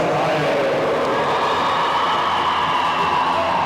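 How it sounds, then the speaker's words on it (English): Steady stadium crowd roar during a 3000 m track race heat, a broad continuous wash of cheering and applause with no distinct peaks, sustained evenly across the stretch. "And there'll be a cheer for this young man"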